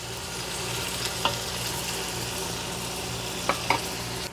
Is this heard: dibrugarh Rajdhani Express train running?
no